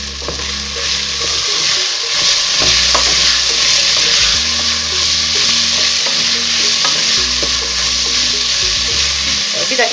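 Tomato paste and spices stir-fry in a pan for a Turkish lentil dish, a steady sizzle running throughout with a spoon scraping and stirring in repeated strokes, close and fairly loud, with no talking.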